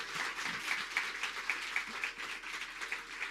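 Faint, rhythmic group clapping from a congregation at a Christian testimony gathering in Punjab, steady beats repeating about every quarter second at a distance.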